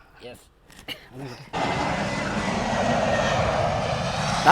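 A loud, steady engine roar of an aircraft starts abruptly and holds, after a short stretch of quiet voices.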